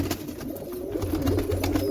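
Border pigeons cooing in a continuous low throaty murmur close by, steady throughout with no pauses and no talk.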